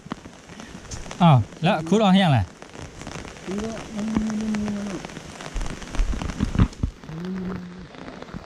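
Steady rain patters down across a rural homestead during the rainy season, a broad, even hiss running throughout while people talk over it in several bursts.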